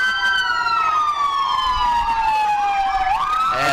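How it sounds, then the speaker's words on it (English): A Clay County ambulance passes in a fall festival parade, its siren sweeping down in a long steady wail and then jumping into a quicker yelp, loud and close over faint crowd murmur. "Clay County ambulance coming by."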